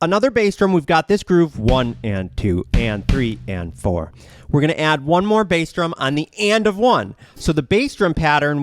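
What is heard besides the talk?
None of the usual background noises is heard.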